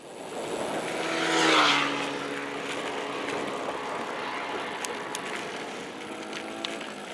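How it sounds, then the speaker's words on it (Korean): Cars and motorcycles racing along a wide, straight flood-control road by a river: a vehicle roars past, rising to a peak then fading into a steady engine drone, heard from the roadside with no talking. "그런데 여기서 속도 경쟁을 하는 차와 오토바이들이 많더라고요."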